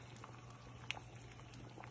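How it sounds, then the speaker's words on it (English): Homemade tomato sauce boils in a pot, a faint soft bubbling and popping with a few small plops over a low steady hum, quiet and close with no talk. "As you can see, the sauce is boiling."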